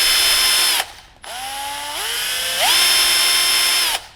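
Bosch GSR 120 Li 12V cordless drill driver running as its trigger is squeezed harder, a loud close motor whine climbing in pitch in steps, with two brief stops before it spins back up.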